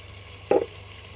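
Chopped tomatoes hitting a hot pan of browned potatoes and garlic for aloo tahari, a sudden close burst of sizzling that peaks briefly and then quickly settles back to a low steady hiss.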